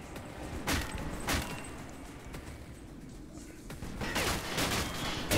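Gunfire in a shooter game against Nazis and monsters, a handful of sharp cracks at uneven intervals followed by a denser burst of shots, fairly faint over background game noise.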